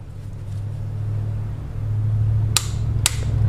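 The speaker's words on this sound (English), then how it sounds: "This is a click type wrench. Once you reach the torque, it will click and you need to stop immediately." A click-type torque wrench tightens a spark plug on a BMW Z4 engine, giving two sharp, close clicks about half a second apart over a steady low mechanical hum.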